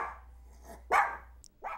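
A dog barks in short bursts in response to a doorbell on Halloween night, three or four sharp barks with pauses between them, fairly close and moderately loud with no one speaking.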